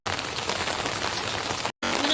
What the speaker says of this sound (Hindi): हम बारिश में भी फूल तोड़ने आए